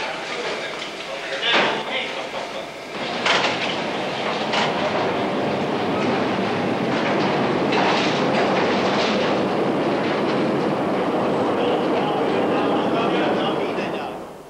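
A mine train travels through an underground tunnel at the Sulitjelma mine, a steady loud rumble and clatter of rail wheels with some rattling, continuous and close, with a narrating voice over it.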